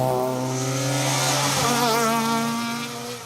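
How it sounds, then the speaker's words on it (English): A Lancia Fulvia 1600 HF Group 4 historic rally car passes on a special stage, its engine loud and close with a steady, raspy, rising drone that fades slightly at the end. "Proper Group 4 rally car that's been in the family from new."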